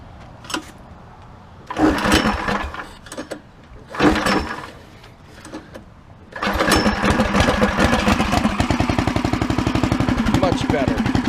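A 420cc stage 1 engine with a new muffler cranks in a few short bursts, then catches and settles into a steady, loud, close idle with a rapid rhythmic chug.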